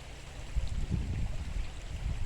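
A small backyard creek flowing, a low steady burble and rush of running water close by, with no talk.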